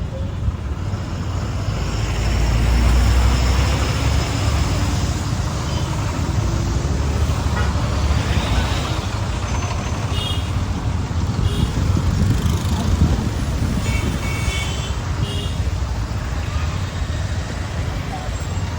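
Steady road traffic rumbling close by in a holiday jam on the Mumbai to Konkan route, engines droning continuously with an occasional horn and people talking over it.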